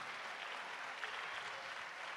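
A crowd applauding steadily, dense even clapping from many hands that holds at a constant level without letting up.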